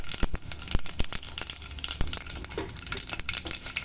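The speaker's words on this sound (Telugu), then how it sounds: "ఆయిల్ బాగా వేడైపోయింది. ఇందులో ఎండుమిర్చి, ధనియా, జీలకర్ర," Hot oil crackles and spits as dried red chilies, coriander seeds, cumin and asafoetida go in for a sambar tempering, with loud close pops and sharp snaps over a continuous sizzle and no talking.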